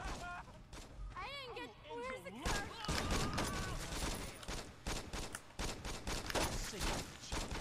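Gunfire in the video game Saints Row 2: bursts of rapid shots and scattered single cracks, fairly loud and dense, mixed under an excited voice that talks over much of the action.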